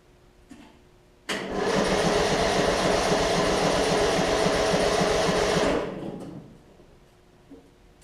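A Murray riding mower's engine cranks over on a jump box for about four and a half seconds, a loud, close, steady whirring churn that starts abruptly and then winds down.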